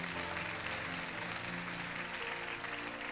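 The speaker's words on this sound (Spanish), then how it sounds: "denle una ofrenda de palmas a nuestro Dios" A church congregation applauds, a dense steady wash of many hands clapping together, moderately loud and continuous with no clear breaks, with no talking.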